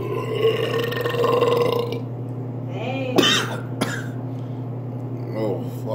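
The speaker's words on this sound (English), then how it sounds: "they are sparkling stuff, so you're gonna get a lot of burps" After sips of sparkling Splash Fizz soda, a loud close burp bursts out, followed by coughing and throat clearing, with a voice also heard.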